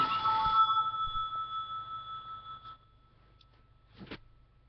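A telephone rings in a home, two bright electronic trills that fade, followed by a quiet gap and a short faint sound, with no talk over it.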